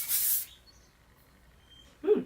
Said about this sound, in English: Back combing finishing spray by Redken. Quick Tease 15-minute hairspray.